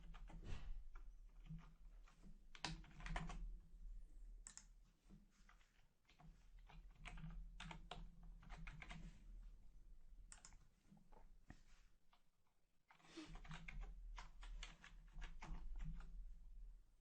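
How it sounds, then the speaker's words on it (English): Someone bashes random characters on a computer keyboard while entering a database record. The keystrokes come in quick, uneven bursts with brief pauses, fairly quiet and close, over a low steady hum. "I'm just going to key in any old gibberish here"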